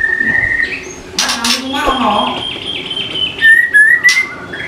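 A blorok split panda lovebird with a 40 cm tail calls up close in loud, shrill whistles and squeaky chirps, with sliding tones and short rapid bursts.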